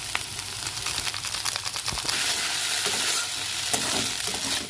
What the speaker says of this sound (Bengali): ভালো করে এটা এবার নেড়ে নেবো, নেড়ে চেড়ে হালকা করে একটু হালকা ভেজে নেবো।